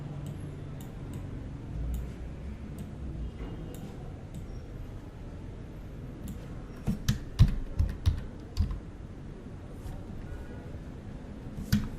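Typing on a computer keyboard produces scattered soft clicks, then a quicker cluster of sharper key taps, close and fairly quiet over faint room noise.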